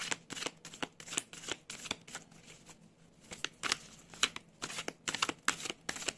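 Tarot cards being shuffled close by, a rapid run of crisp riffling bursts that flutter in uneven rhythm for several seconds with no voice over them.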